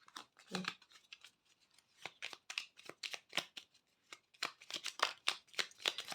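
Tarot cards are handled and a card is drawn from the deck in a quiet room, giving a string of soft, crisp papery flicks and shuffling snaps, irregular and close up, with no talk over them.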